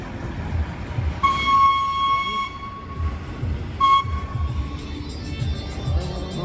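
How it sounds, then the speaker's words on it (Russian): A TU2 narrow-gauge diesel locomotive shunts at a station where narrow and broad gauge meet, during a steam locomotive festival. Two long horn toots sound over a rumbling engine, moderately near, under scattered crowd noise. "Здесь маневрирует Ту-2. Ту-2 это основная подвижная единица почти на всех узкоколейках."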